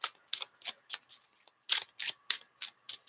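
Cards being shuffled close by, a quick run of crisp riffling bursts with short pauses between them, no voices.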